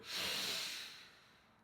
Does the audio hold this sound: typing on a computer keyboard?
no